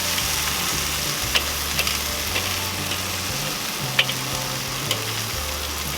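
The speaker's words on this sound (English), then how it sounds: "Just because we're here, I'm going to go ahead and flip these" Korean short ribs sizzle loudly and continuously on a Weber kettle grill, a dense close crackle broken by a few sharp clicks as the meat is flipped, with a low hum underneath.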